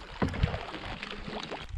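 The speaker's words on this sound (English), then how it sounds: "Focusing more on the paddling than the fishing now." A canoe paddled across a lake, a few soft paddle strokes and low watery splashes and gurgles in an irregular rhythm, close by and fairly quiet.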